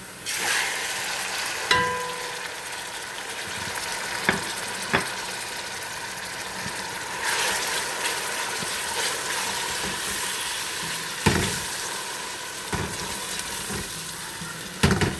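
Onions sizzle steadily in a hot pan as tomatoes are added, with a loud continuous frying hiss broken by occasional clinks and stirring knocks.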